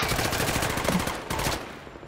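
Rapid automatic gunfire from the battle royale video game Off The Grid rattles continuously and loudly for about two seconds, dense and unbroken, with no talking over it.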